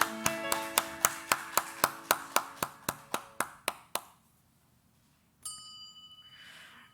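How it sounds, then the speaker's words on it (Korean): A church congregation claps in unison, about fifteen sharp, evenly spaced claps in steady rhythm that stop abruptly, followed by a short silence and then a faint ringing tone. "하나님께 감사와 영광의 박수를 드립니다."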